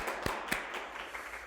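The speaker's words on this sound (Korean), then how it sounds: "네, 박수 한번 치시죠" A small audience at a startup lecture claps briefly, with a few distinct sharp claps over a thin, soft patter that dies down quickly.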